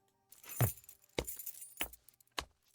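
Keys jangle in the horror game Tiny Bunny as a father walks off ringing them, with four distinct metallic bursts spaced about half a second apart, close and clear with no talk over them.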